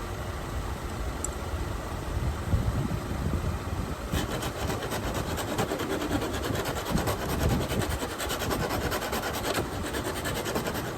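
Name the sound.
filing and smoothing a car part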